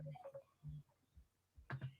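A phone rings or buzzes in short tonal bursts with gaps between them, quiet and close, during a post-fight chat about the UFC 283 Teixeira vs Hill card, with no one talking over it.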